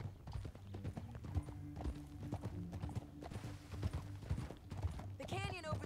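Horse hooves clip-clop at a steady gait in Red Dead Redemption 2, with brief whinnying toward the end and someone talking over the game sounds throughout.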